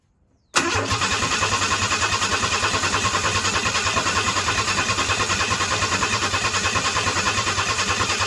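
A 1991 Ford F-150 under restoration, its engine kicking in abruptly and then running steadily with a loud, even, rhythmic idle pulse that holds for the rest of the clip, with no talk.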